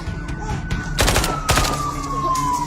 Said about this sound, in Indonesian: Lu gak dengar suara tembakan di luar?